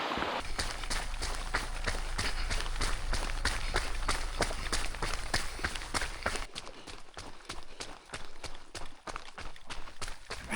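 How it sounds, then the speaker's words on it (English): Running footsteps splash through water on a flooded river trail during a 100 km mountain ultramarathon in Val d'Aran, rain having just eased; steady, close, rhythmic strides continue throughout with no talking. "Running down a bloody river."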